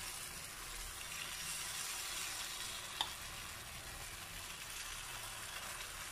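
Paniyaram batter cooks in a pan over a low flame, giving a faint, steady, close sizzle with one small click partway through.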